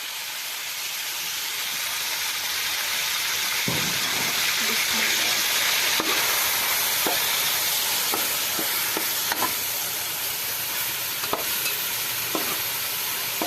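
Onions for mutton pulao sizzle and hiss steadily in hot oil, browning, with occasional stirring clinks and scrapes of a spoon against the pan.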